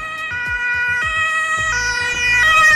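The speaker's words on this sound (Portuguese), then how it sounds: "Um som intermitente de dois tons," A European-style hi-lo two-tone emergency vehicle siren alternates steadily between a high and a low note, loud and close, with no voices over it.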